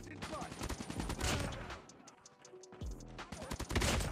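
A KN-44 assault rifle fires in Call of Duty Mobile in rapid automatic bursts, with a brief lull midway before loud firing resumes, under a light speaking voice.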